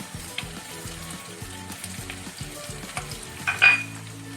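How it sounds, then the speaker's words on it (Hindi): Chopped onion, done in a chopper rather than pasted, sizzles steadily in hot oil in a pan for arbi curry, with a soft crackling hiss throughout and a brief louder burst near the end; a low musical bed plays underneath. "प्याज को इस ऑयल में डाल देती हूँ"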